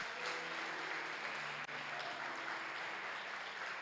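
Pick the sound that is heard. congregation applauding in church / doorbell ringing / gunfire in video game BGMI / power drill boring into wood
congregation applauding in church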